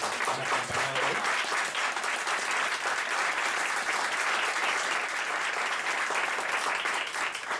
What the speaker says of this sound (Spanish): les quiero pedir que por favor me ayuden a dar un fuerte aplauso a nuestros colegas que nos han acompañado hoy